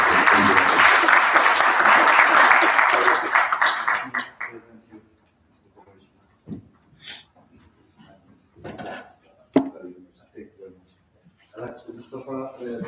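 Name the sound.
audience applauding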